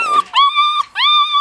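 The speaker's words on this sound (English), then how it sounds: "He's a wet dog." A wet dog whimpers close up in two or three high, drawn-out whining cries, each rising and then holding a thin, tonal pitch, loud and clear with no voices over them.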